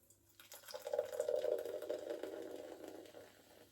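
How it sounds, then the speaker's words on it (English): A fizzy drink from a can is poured into a cup, a steady close gurgling splash that swells after half a second and runs continuously for about three seconds, slowly easing off, with no talking over it. "Pour it into the cup."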